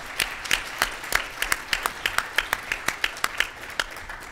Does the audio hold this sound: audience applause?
yes